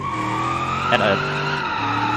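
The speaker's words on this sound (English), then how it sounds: "now if I initiate a drift" A car in the BeamNG Drive driving game drifts, its tires squealing over a droning engine note, with a brief spoken word over the skid.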